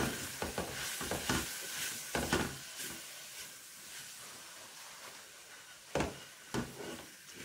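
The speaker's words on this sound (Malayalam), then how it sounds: "അപ്പം നമുക്കിതെല്ലാം കൂടെ നന്നായിട്ടൊന്ന് മിക്സ് ചെയ്ത് കൊടുക്കാം." Mutton roast with garam masala is stirred in a hot pan, a steady hiss and sizzle broken by repeated spoon scrapes and clacks, close and moderately quiet.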